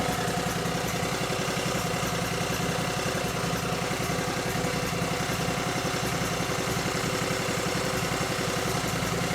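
Cub Cadet 3205 garden tractor engine idling steadily, a constant close rumble with even mechanical chatter and no talk.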